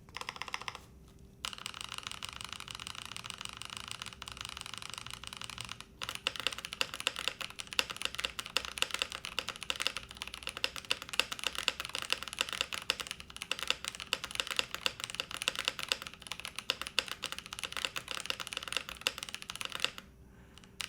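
Rapid clacky keystrokes on a mechanical keyboard, steady and close, with a brief pause early on and occasional deeper thocks from a larger key.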